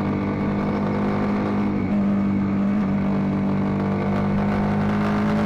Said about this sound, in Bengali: আমার এই ক্যামেরাতে ইঞ্জিনের সাউন্ডটা না পেলেও এটাতে কিন্তু পাওয়া যায় সামনেতে সাউন্ডটা শোনাই আপনাদের।